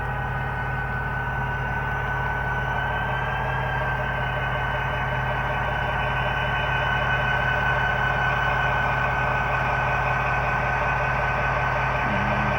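A steady low engine hum drones on, a Chessie System GP40-2 model diesel locomotive with TCS WOWSound idling and throttling with a faint whine riding on top, no voices.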